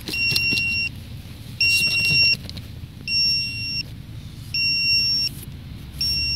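A vehicle's electronic warning beeps sound in a steady on-off pattern, each tone lasting under a second, over a low idling rumble; an SC8 Super 4×4.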